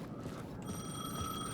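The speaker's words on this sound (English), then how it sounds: "The payphone was ringing." A payphone rings in Alan Wake 2, a steady electronic tone repeating at moderate volume above a dense, murky ambient game background.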